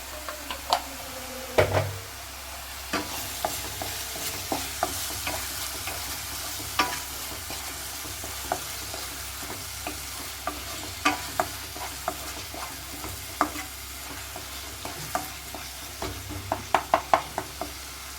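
Fish fries in a pan with turmeric and salt, a continuous low sizzle broken by frequent sharp taps and scrapes of a spatula, busiest near the end.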